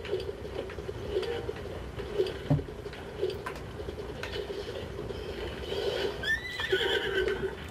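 Horse neighing and whinnying in Zelda: Breath of the Wild, with hoofbeats and bird cooing in the game's outdoor ambience; the whinny rises near the end over a steady background.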